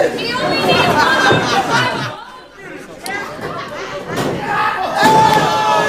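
Dense crowd chatter and roar at a wrestling event fills the space, loud and continuous with a brief dip midway, with people talking close over it.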